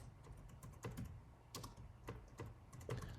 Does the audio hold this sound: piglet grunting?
no